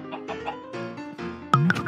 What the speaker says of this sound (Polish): Słychać jakieś kurczaki.